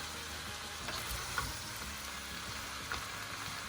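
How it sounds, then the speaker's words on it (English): A heavy load of carrots and vegetables sautés in a pan, producing a soft, continuous frying hiss with a couple of faint clinks as it is moved around, quiet and with nobody speaking. "spin this around a little bit and saute the vegetables"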